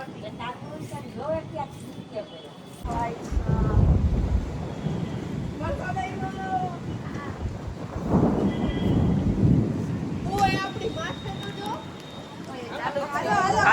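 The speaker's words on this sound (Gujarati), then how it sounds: "અહીંયા વરસાદ ચાલુ થઈ ગયો છે" A summer rain and wind storm in Rajkot brings gusts buffeting the microphone, steady rain and rumbling bursts, with people talking over it throughout.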